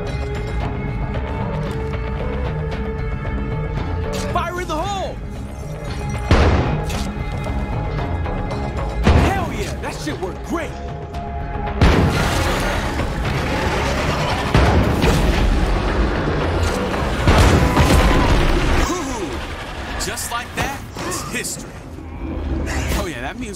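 Loud booming blasts from a State of Decay 2 game session in the zombie-infested Cascade Hills, several heavy explosions scattered across a dense, noisy game mix with a voice talking over it.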